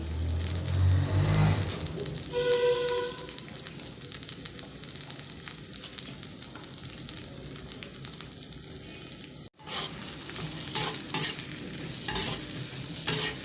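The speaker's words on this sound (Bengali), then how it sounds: "পেঁয়াজটা ভালো করে ভাজা" Steady sizzling of onions and garlic frying in a pan, with stirring scrapes and clatter, louder bursts of sizzle near the end.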